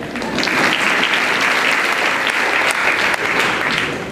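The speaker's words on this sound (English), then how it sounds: "give yourself a round of applause" A graduating class and crowd at a 2015 Riggs graduation ceremony burst into loud, dense applause that stays full and close throughout, a thick continuous wash of many hands clapping with a slight dip near the end.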